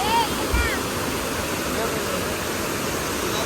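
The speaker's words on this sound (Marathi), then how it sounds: "खतरनाक वाटतो एकदम पाणी हा." Fast, dangerous-looking water rushes with a loud, steady roar that fills the whole stretch, and a brief higher tone rises near the start.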